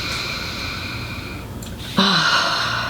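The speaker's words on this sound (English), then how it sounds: "and then I breathe in" A person draws in a deep breath, first a quiet, soft airy inhale, then a louder, sharper intake near the end, close and alone with no talking.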